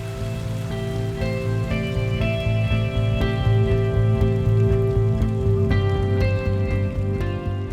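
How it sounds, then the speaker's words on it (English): Cold, steady rain patters on the water and boat during a September salmon fishing trip on the Gander River, a continuous dense hiss with a low droning hum beneath, no voices. "it's gonna get cold and rainy like this"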